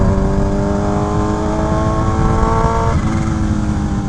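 A Kawasaki Ninja H2 motorcycle runs at a steady, loud engine note with strong harmonics while being ridden, the pitch dipping slightly near the end as it eases off, with no talk.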